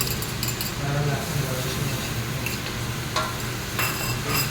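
Garlic stir-fried for fried rice in a pan, a steady sizzle with scraping and clinking of a utensil against the pan throughout, with a voice speaking briefly over the cooking.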